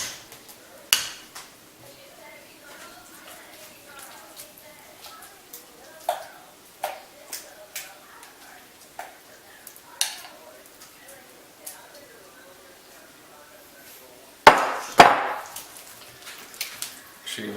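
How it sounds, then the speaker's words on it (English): A utensil clinks and taps against a bowl while pumpkin pie mix is stirred into a cream cheese filling, with sparse irregular knocks under quiet background and a louder scraping clatter near the end. "Make sure you mix it nice and good so everything's mixed, so you don't have one thing by itself."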